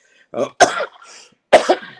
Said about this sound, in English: I keep apologizing to everybody for this cough